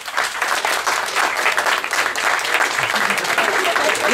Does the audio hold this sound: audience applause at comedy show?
yes